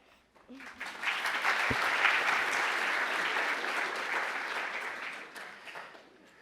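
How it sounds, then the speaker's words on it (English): An audience at a school event gives a student speaker a round of applause, dense clapping that swells quickly, holds steady for several seconds and then fades out. "One more quick round of applause"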